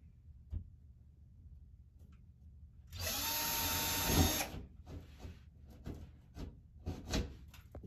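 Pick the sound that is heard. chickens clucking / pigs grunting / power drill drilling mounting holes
power drill drilling mounting holes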